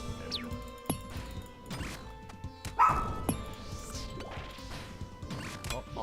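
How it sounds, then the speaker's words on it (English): A dog named Anna barks repeatedly and close, sharp yips and bow-wows spaced across the clip, with a loud thump midway and a steady tonal hum underneath. "She's barked a lot."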